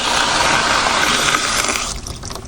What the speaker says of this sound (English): So let's turn the water on and see what we get.